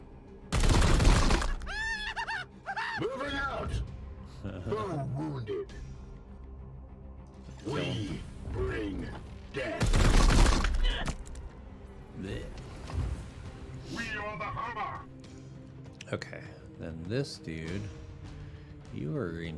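Gunfire sounds in the video game Warhammer 40,000: Chaos Gate - Daemonhunters, with two loud, sharp bursts standing out under near-continuous talking.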